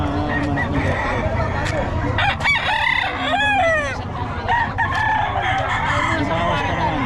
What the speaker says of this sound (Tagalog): itong mga manok ni Boss Rod